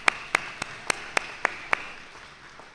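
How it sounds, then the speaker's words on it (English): Sparse, evenly spaced claps ring out in a quiet room at a community breakfast, about seven distinct hand claps that thin out and fade rather than building into full applause. "another round of applause."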